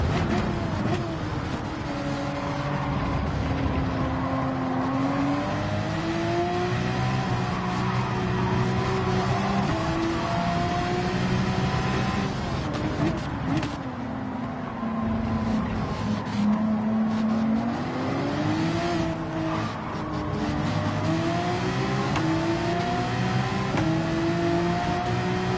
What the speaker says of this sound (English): That Porsche, that Ferrari is loud.